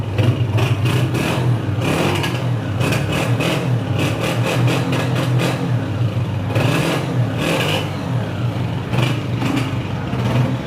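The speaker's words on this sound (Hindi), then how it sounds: "होंडा 125 गाड़ी का इंजन चेक करो बस" A Honda 125 motorcycle engine runs continuously and loudly nearby, a steady mid-pitched chug with slight rises in revs, and no voices over it.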